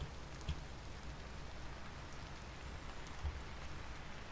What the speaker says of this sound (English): Just a high rain area.